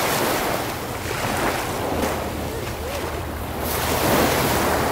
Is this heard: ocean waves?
yes